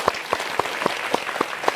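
Audience at a motivational lecture claps in a steady rhythm, sharp individual claps repeating about every quarter second, fairly close and clear, with no talking over it.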